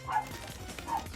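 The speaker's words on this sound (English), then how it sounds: "Got a couple barking outside and one barking inside at them." Dogs bark from outside and indoors, with two short yips or barks at the start and end, faint and muffled in a quiet room.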